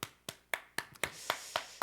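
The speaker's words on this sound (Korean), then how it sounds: "우리 하나님께 영광의 박수 한번 다시 올려드릴까요?" A youth church group claps together in praise, about eight sharp, evenly spaced claps in a steady rhythm, fairly close and crisp, with no talking.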